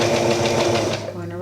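A sewing machine stitches around a skirt hem in a short run, a close, buzzing mechanical whirr that slows and drops off near the end, with a voice talking over it.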